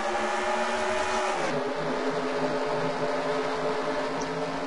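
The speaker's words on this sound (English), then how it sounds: "Race car will hit pit lane." NASCAR Xfinity race cars in the Great Clips 250 at Michigan howl past, their high-revving engines loud and layered, with one car's pitch sweeping down at mid-clip as it passes.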